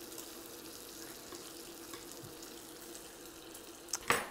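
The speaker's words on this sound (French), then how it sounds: "là le guanciale il revient tranquillement" Guanciale fries gently in a pan for carbonara with a soft, steady sizzle throughout. Near the end come a couple of brief, sharper clatters.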